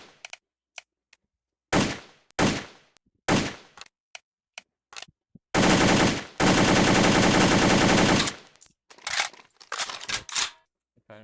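An IWI Galil ARM rifle fires several sharp single shots, then a long full-auto burst of about three seconds, followed by mechanical clicks and rattles from handling the weapon, all loud and close.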